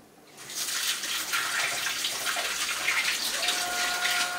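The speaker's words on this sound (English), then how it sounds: "wash my gloves again" Tap water gushes and splashes as gloves are rinsed under it between handling smoked lamb and pork; the stream starts abruptly and runs steadily and close, with no talking.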